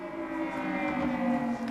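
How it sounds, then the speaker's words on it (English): An air raid siren sounds in Kuwait City, a sustained, steady wailing tone at moderate distance with no other voices. "In the past 48 hours in Kuwait City, air raid sirens have sent people scurrying for cover"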